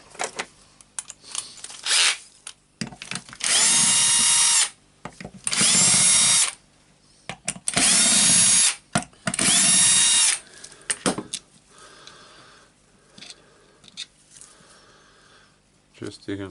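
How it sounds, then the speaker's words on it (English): A power tool spins out the four screws of a Berner BROS 150 orbital sander, four loud sustained whirring bursts of about a second each, separated by brief pauses and handling noises, with someone talking between them. "I will try to unscrew them"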